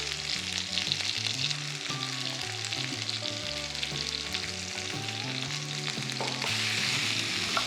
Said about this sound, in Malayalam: ചില്ലി പേസ്റ്റ് ചേർത്ത് വീണ്ടും ഒരു 5 മിനിറ്റ് കൂടെ കുക്ക് ചെയ്യുക